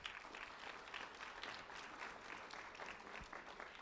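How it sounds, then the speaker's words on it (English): Faint, distant applause from an audience at a sheriff's office recognition ceremony for a fourth-grade student, a steady wash of clapping with no voices. "a round of applause for Julian Escobar, please."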